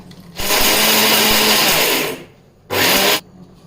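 A kitchen mixer grinder whirs loudly as it powders dry masala spices with coconut, running in one long burst of about two seconds, then stopping briefly before a second short pulse.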